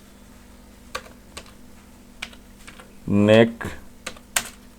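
Computer keyboard typing, a handful of separate clicks spread out, close and fairly quiet, with a brief spoken word partway through.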